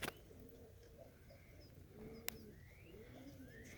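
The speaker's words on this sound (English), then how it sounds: "A lot of the new birds are out." Newly introduced pigeons cooing outdoors at dusk, several soft repeated coos and chirps at moderate distance over a quiet background, with one sharp click midway.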